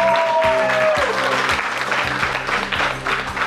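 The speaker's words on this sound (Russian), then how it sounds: "аплодисменты этой замечательной команде" Applause for a quiz team at a school trivia event, steady and fairly loud throughout, with a few sharper claps and a brief tonal sound near the start.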